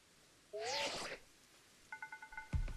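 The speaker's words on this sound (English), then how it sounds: "so we got a phone ring" Phone ringing in Pokémon Scarlet & Violet: a short run of quick, evenly spaced electronic beeps forming a ring pattern, preceded by a brief chirpy whoosh and ending in a soft thump.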